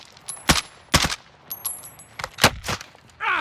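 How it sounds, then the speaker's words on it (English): Sniper rifle shots in a first-person shooter game ring out as about six sharp, loud cracks spaced unevenly over a few seconds, each with a short tail, with faint electronic tones in the background. "he's been taking pot shots at me"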